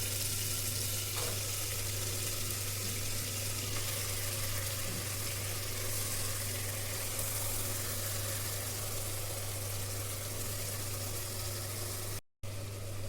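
Marinated goat meat sizzling in a pan, a steady broadband frying hiss with a low constant hum underneath, holding evenly for about twelve seconds before a brief dropout near the end.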